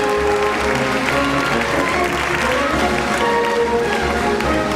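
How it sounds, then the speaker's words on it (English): An audience applauds volunteers gathering on stage at a magic show, a loud, dense, continuous wash of clapping with tonal music and murmur running underneath. "A round of applause for the gentleman gathered up on the stage today."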